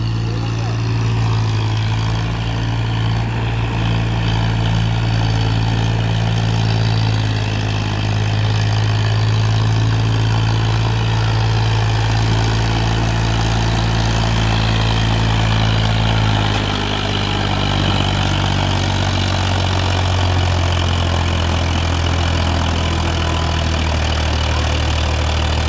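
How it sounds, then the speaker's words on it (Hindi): A Powertrac 42 HP tractor engine runs continuously, a loud, close diesel drone with a deep steady hum and shifting low tones as it pulls, holding at constant strength throughout. "बयालीस एचपी की है दोस्तों ये ट्रैक्टर।"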